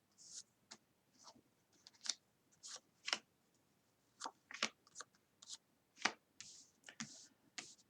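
Tarot cards slid and shifted around on a table during a reading, a quiet run of irregular papery swishes and light taps, close by with no talk.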